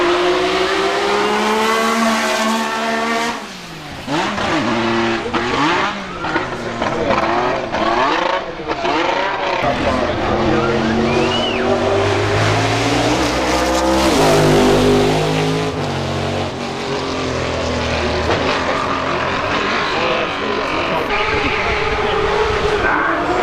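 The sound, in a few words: 6-litre naturally aspirated car accelerating at Festival of Speed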